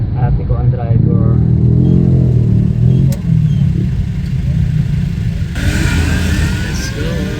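A car on a first drive through traffic gives off a steady mid-pitched engine and road rumble, with people chatting over it the whole time and a brighter hiss near the end.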